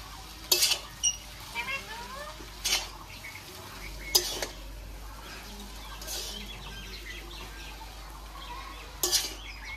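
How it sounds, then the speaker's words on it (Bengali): Chicken chowmein noodles stir-frying in a pan, with a faint low sizzle under a few sharp spatula scrapes and clatters spaced several seconds apart. "এবার আমি ভালো করে ভেজে নেব।"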